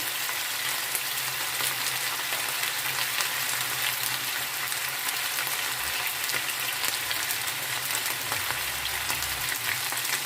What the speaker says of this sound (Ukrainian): Так, ось обсмажуємо. Нам потрібно, щоб капуста не підсмажилась, щоб вона просто скувалася.